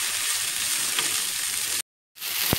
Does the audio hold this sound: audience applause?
no